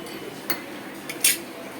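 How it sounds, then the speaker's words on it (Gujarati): A metal spoon clinks against a dish of boiled mung beans during stirring, giving a few sharp light taps close by over a quiet background. "આપણે હલાવી અને દઈશું જેનિસને"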